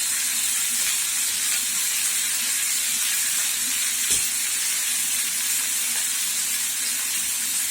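Steady, loud sizzling of oil frying dried red chillies for tempering a dried-fish curry fills the whole stretch, a dense crackling hiss with one brief soft knock midway.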